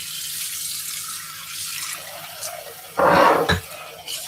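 Water from a running kitchen tap rinses a dish, starting faint then gushing louder for a moment with splashing before easing back, no speech heard.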